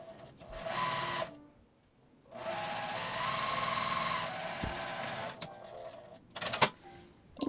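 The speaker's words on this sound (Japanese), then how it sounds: "中表に合わせて1センチの縫い代で縫います。" A sewing machine stitches a waffle-cloth hairband with a 1 cm seam allowance: a rapid whirring run, a pause, then a longer steady stretch of stitching, ending in a few short bursts and clicks.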